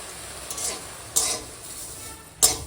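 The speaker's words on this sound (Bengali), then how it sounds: "নিম পাতাটা একটু তেল দিইনি শুধু কাঠখোলায় ভাজছি" Neem leaves dry-roasting in an oil-free pan: a soft, dry rustling hiss is broken by three scraping stirs of a spatula against the metal, close by with no speech.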